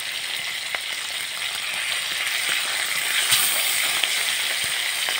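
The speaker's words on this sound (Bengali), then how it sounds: "তেলটা গরম হয়ে গেছে, এবার এই মাছগুলো একটা একটা করে এর মধ্যে আমি দিয়ে দিচ্ছি।" Small aila fish are fried in hot oil, giving a close, loud and constant hiss of sizzling with occasional sharp pops and crackles.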